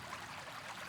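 A small, healthy stream on the Riou Mort, a tributary of the Lot, flows with a soft, even babble and trickle. It is faint and steady, with no talking.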